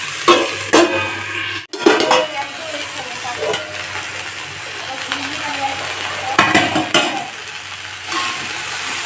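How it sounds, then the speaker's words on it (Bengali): Potatoes, onions and yardlong beans frying in a pan while being stirred, with a loud, continuous sizzle broken by repeated scraping and clattering strikes of the utensil against the pan. "আলুটাকেও নাড়াচাড়া করে নেব তারপর থালা দিয়ে চাপা দিয়ে দেব"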